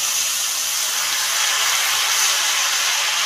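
Cabbage, drained of washing water, tossed into a hot pan of fish-head masala for a Bengali cabbage dish, giving a steady, loud, broadband sizzling hiss that holds evenly throughout with no voices.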